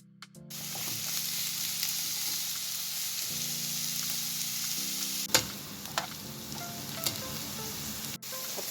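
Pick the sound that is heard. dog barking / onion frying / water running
onion frying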